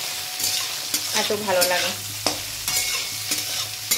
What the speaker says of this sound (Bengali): এই সয়াবিনটা বেশ লাল লাল করে ভেজে নেব